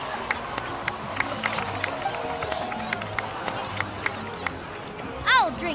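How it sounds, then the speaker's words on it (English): Crowd applause in Genshin Impact, sparse scattered claps and distant cheering from a gathered crowd, fairly faint, ending with a short bright chime-like flourish. "please give another round of applause for them"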